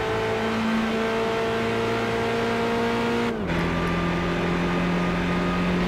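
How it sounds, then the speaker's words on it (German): A Mercedes 300 SL in Gran Turismo 5 revs at full throttle, its steady engine drone climbing in pitch before dropping sharply at a gear change, then pulling upward again, loud and continuous. "Und jetzt voll aufs Gas."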